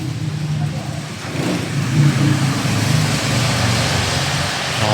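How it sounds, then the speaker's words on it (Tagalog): Road traffic rumbles past as cars accelerate on a street under a darkening sky, a steady mid-level engine drone swelling a little midway while voices talk nearby. "Traffic."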